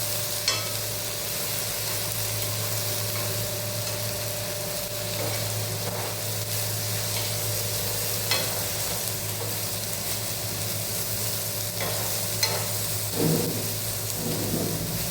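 Egg podimas with tomato and masala sizzles steadily in a hot pan, a constant crackling hiss with occasional soft scrapes of stirring.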